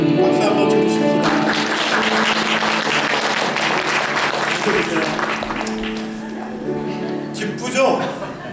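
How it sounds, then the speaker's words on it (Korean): A church congregation at a Sunday service claps together, a dense sustained burst of applause that gradually thins out, with a voice speaking over it near the end. "박수 한번 쳐주십시다"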